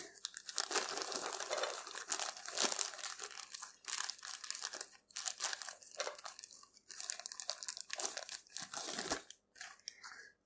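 Loud, close crinkling and crunching of a plastic bag as picked dandelion flower heads for dandelion wine are stuffed into it, continuous rustling with brief pauses and no voices.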